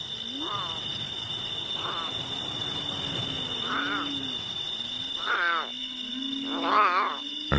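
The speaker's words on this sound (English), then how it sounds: "The plaintive cries of the abandoned lion cub echo through the night." An abandoned lion cub cries repeatedly in the night, five or six rising, plaintive calls spaced a second or two apart over a steady background of insects trilling in the dark.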